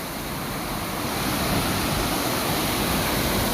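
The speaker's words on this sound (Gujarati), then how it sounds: "કાઢિયામાંથી જોરદાર પાણી પડે" Loud, constant roar of water gushing strongly from a dam outlet during rain, rushing and crashing downward, a dense broadband wash with no pauses.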